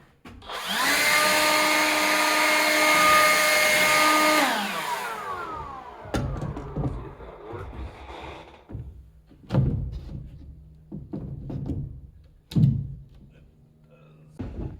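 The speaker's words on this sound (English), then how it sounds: "Get to the blower. Yep. Want me to just blow it?" A blower clears debris off a porch deck during house framing work. It roars steadily and loudly for about four seconds, then winds down, followed by scattered nearby thumps and knocks.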